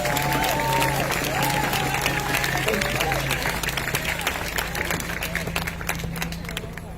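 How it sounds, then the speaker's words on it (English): A crowd at an outdoor Seattle decriminalization rally applauds steadily for several seconds, dense clapping mixed with a few cheers, tapering slightly toward the end. "Yes, clap, please."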